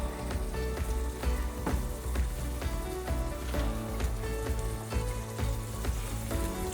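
Bacon frying in a pan in a kitchen, a steady dense crackling sizzle with scattered pops, close and continuous throughout with no talk.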